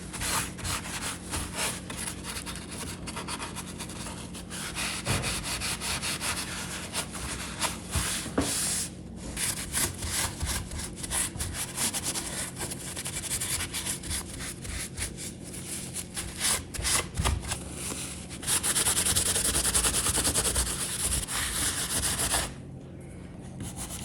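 Wax is rubbed and wiped by hand across a chippy French trumeau mirror frame, giving a continuous scratchy scrubbing with uneven strokes, close and fairly quiet throughout.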